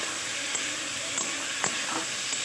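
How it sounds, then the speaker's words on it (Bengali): Boiled potatoes drop into a pan of spice masala that has been fried down, giving a steady, moderate sizzle and hiss with a few soft stirring clinks. "মশলা কষানো হয়ে গেছে। এবারে আলুটা দিয়ে দিচ্ছি,"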